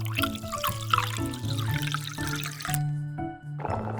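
Water pours in a thin trickle into a miniature cooking pot, splashing and dribbling close by for a few seconds before stopping, with a light melody playing underneath.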